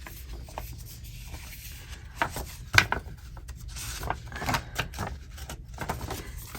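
Small paper pages for no-sew mini journals being cut with a paper trimmer: quiet rubbing and scraping strokes with a few sharper clicks, close and faint.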